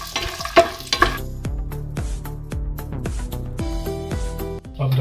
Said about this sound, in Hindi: अब मैं डाल रहा हूँ इसमें करी पत्ता और इसको भून लेते हैं